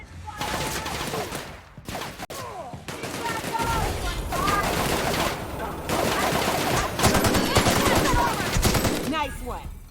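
Sustained gunfire in The Outer Worlds, rapid automatic bursts and overlapping shots in dense volleys with brief pauses, loud and close, with game voices and effects mixed in.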